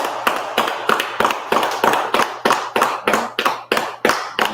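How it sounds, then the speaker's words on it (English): Rhythmic group clapping from an audience at a closing Purim feast gathering, steady loud claps in even beats, close and sustained, with a low hum underneath. "clap it up for the sisters"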